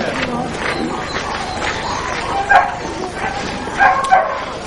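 Racing greyhounds at a stadium give a few sharp yips and barks, some close and some further off, over a busy crowd-like background and faint talk.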